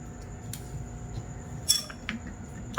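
A few light clinks and scrapes of a utensil against a bowl as tomato chutney is transferred into it, soft and close, with a quiet background hum.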